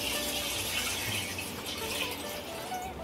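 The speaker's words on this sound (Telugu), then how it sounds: "ఈ మగ్గు నీళ్ళు పోసా నేను." Water poured from a mug into a thick, heavy cooking pot while preparing rice-flour dumplings in milk; a steady, close splashing pour runs throughout with no talking.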